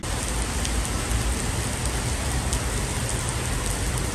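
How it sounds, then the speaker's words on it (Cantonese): Heavy rain pours down steadily, a dense, loud hiss of drops hitting surfaces with occasional sharper splashes. "超級大雨"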